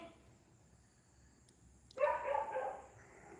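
A few sharp dog barks break out about midway through the clip, fairly close and loud, after a stretch of quiet background hiss.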